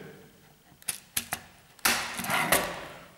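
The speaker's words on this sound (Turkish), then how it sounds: "Ve buradaki klips parçaları diğer kontaktördeki yuvalara geçirelim." Plastic clip pieces of a Siemens Sirius 3RA2923 contactor mechanical interlock kit snapping into the slots on a contactor, giving several sharp close clicks followed by a louder burst of rattling, plasticky handling with no talk.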